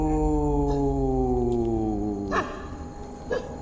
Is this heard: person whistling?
no